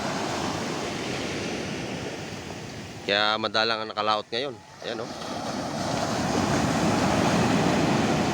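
Big ocean waves breaking on the shore in Cavite, a steady broad surf roar with wind buffeting the microphone throughout, and someone talking briefly over it midway.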